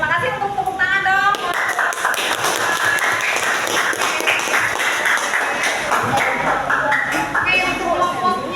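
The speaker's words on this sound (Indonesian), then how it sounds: "Terima kasih untuk tepuk tangan dong" Group applause in an Indonesian classroom during an academic coaching session, steady dense clapping throughout with a noisy crowd and some voices mixed in.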